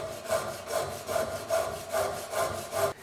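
A Japanese pull saw cuts down along a marked line through wood for a mitered mortise and tenon joint in steady, even strokes, about seven rhythmic rasping pulls, close up with no talking.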